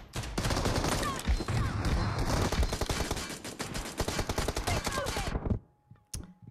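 Rapid automatic gunfire from PUBG Mobile, a dense, loud burst of shots firing continuously for about five seconds before cutting off, followed by a couple of faint isolated clicks.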